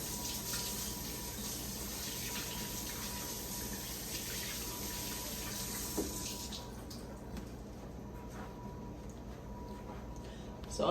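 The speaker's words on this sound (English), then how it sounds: "So I'm going to wash my hands again." A sink faucet runs steadily while hands are washed under it, a constant close rush of water that shifts slightly in tone partway through, ending with a brief clatter.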